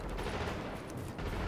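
Sustained automatic gunfire in the video game The Division, a dense continuous rattle of shots from multiple weapons at a steady, fairly distant level with no clear gaps.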